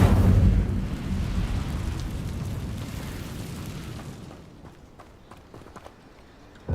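The Incendio fire spell cast in Hogwarts Legacy bursts out as a loud, deep whoosh-rumble that gradually fades over several seconds, ending in a quieter tail.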